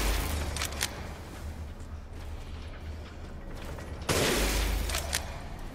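Magnum revolver gunfire in the VR video game Resident Evil Village, heard as loud, sharp blasts, one early and a heavier one near the end, over a steady low game rumble.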